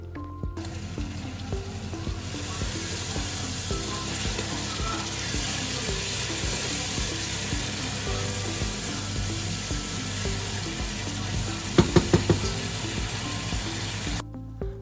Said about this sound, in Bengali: আর আরেকটা চুলাতে কিন্তু আমি যে চিকেনের ফ্রাইগুলো করতেছি চিকেন রোস্ট করার জন্য।